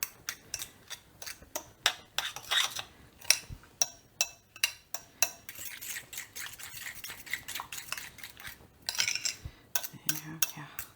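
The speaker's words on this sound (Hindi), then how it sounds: "2 अंडे डालती हूँ। ये हो गया। ये हो गया। इसको मिक्स कर लेती हूँ मैं।" Two eggs are beaten in a bowl for an omelette, with quick metallic clinks and scrapes of a fork or spoon against the bowl in an uneven, rapid rhythm. No one speaks.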